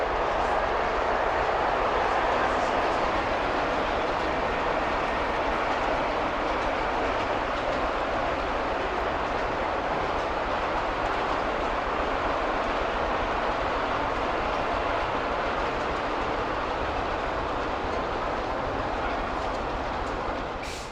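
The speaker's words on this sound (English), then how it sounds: "Rather interesting loco here." A model steam locomotive runs along its track at a large model show, producing a steady, continuous rolling rumble with faint rail clatter that stays even and fairly loud for the whole stretch, with no talk.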